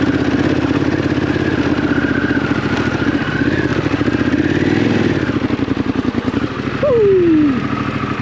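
A Harley-Davidson Pan America motorcycle engine labors up a muddy trail, close and loud, with a throbbing rumble that rises and falls and surges in a rev near the end.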